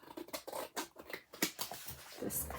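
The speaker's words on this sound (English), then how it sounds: "big scissors to cut" Repeated snipping and rustling of large scissors slicing through paper, close by, in a quick irregular series of cuts.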